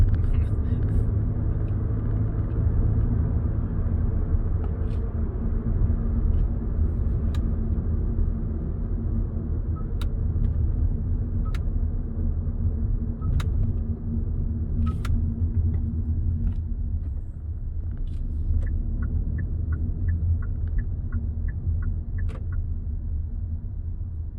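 A Hyundai Bayon engine hums steadily at low speed in second gear with continuous road rumble, the drone shifting slightly as the car slows almost to a stop and pulls away again without the clutch.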